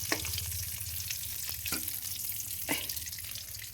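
Cauliflower pieces in hot oil give a steady close sizzle with a few sharper crackling bursts, stirred now and then, with no voices.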